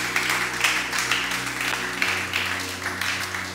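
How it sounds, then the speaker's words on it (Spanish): A church congregation applauds at a Spanish-language sermon. The clapping comes as a steady, moderately loud wash over a sustained organ-like keyboard chord. "Dale ese aplauso grande al Rey."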